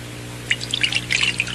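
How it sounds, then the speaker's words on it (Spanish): Water is poured back into a measuring cup, starting quietly and building into a short burst of close splashes and drips in its second half. "Finalmente, vacía el agua de nuevo en la taza medidora."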